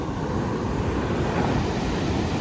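Rough, stormy sea surges against the shore in a continuous loud roar of breaking water, heavy and unbroken, with wind rushing across the microphone.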